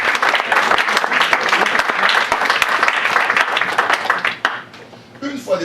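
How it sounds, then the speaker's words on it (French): A church congregation claps vigorously and continuously, a dense, loud wash of applause that thins out near the end as voices come through. "Applaudissez bien."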